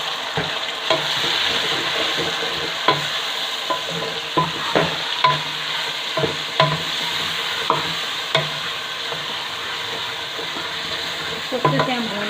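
Chopped tomatoes fry in a pan for chicken chana masala, a steady hiss of sizzling oil broken by regular spoon scrapes and taps against the pan, close and unaccompanied by speech.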